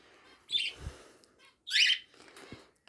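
A pet bird indoors in a bird room gives two sharp, harsh squawks about a second apart, close and fairly loud, with quiet gaps between.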